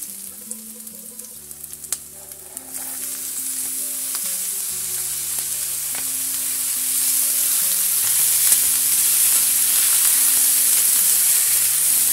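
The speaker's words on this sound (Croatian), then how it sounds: "Sada ćemo znači na proprženi luk, neću još ništa soliti, dodati znači ove isjeckane gljive." Chopped oyster mushrooms dropped onto fried onion in a hot pan, the sizzle swelling louder and hissier partway through and holding steady, with soft music playing underneath.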